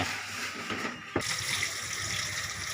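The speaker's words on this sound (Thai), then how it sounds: "น้ำปลาเขาเดือดคักเลยครับ" Fish sauce boils in a cooking pot, making a steady, close bubbling hiss with one brief knock partway through.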